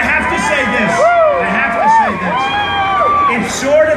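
A crowd cheers at a Donald Trump rally at the Oklahoma State Fair, with whoops, shouts and overlapping voices rising and falling close by.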